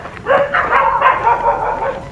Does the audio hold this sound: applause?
no